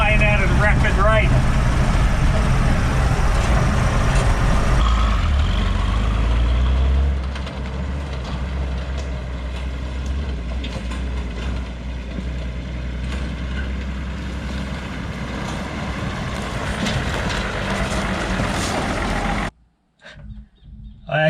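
A Toyota Land Cruiser HJ45 with a leaking core plug drives along, its engine a loud, steady rumble that drops after about seven seconds, then a brief near-silence as it cuts out near the end.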